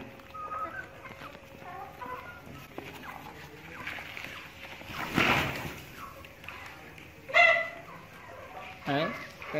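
Chickens on a farm raised on coarse green feed cluck intermittently while eating, with a few louder squawks and rustling nearby and a person talking in the background.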